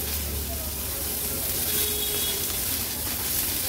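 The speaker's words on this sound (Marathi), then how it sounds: "कांदा तेलावर छान परतून घ्यायचा आहे" Chopped onion and two green chillies sautéing in oil for an Agri-Koli style veg thali, a soft continuous hiss of frying at moderate level, steady throughout with no distinct stirring strokes.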